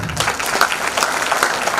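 Audience applause for LKG children performing a Ramayana dance drama at a preschool annual day, a dense steady burst of many hands clapping, fairly loud and close, no speech.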